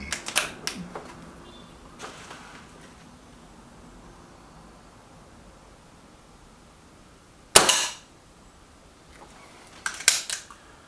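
A Stoeger XM1 .22 air rifle fires pellets, with two sharp close shots heard several seconds apart amid quiet handling clicks and small rustles.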